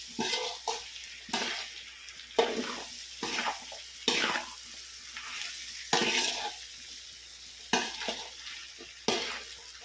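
Vegetable khichdi with garam masala stirred in a pot, with repeated scraping strokes of a spoon roughly every second over a soft background sizzle, close and clear with no talking.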